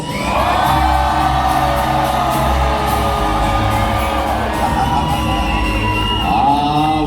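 A crowd of spectators at a medieval dinner-and-tournament show cheers, whoops and yells loudly and continuously, a dense roar of many voices filling the arena without pause.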